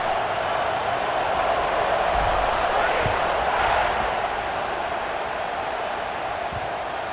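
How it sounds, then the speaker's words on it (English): A football stadium crowd at a UCLA versus Auburn game murmurs in a broad, steady buzz after a score, swelling slightly midway, with a commentator talking over it. "this crowd is buzzing after that last score"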